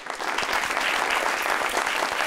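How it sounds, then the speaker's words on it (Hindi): Sustained applause from a studio audience on a Pakistani TV talk show, dense and steady clapping throughout with no speech. "इनके लिए ढेर ढेर ढेर ढेर ढेर सारी तालियां"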